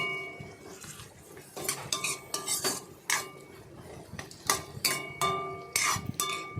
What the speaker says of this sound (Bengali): সবজিগুলো ভালোভাবে ঢেকে ঢেকে আস্তে হিট দিয়ে গ্যাসের ভেজে নেব